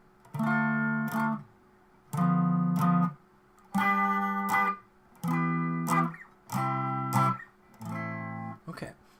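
A guitar plays a chord progression that descends by thirds, with six sustained chords separated by short gaps. Each chord is strummed with a sharp attack and rings clearly, with no talking over it.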